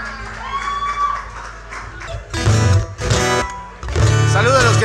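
At an anniversary concert, the audience claps and cheers for a musician before he plays an improvised song. Loud crowd noise comes in bursts, mixed with shouts and talking nearby.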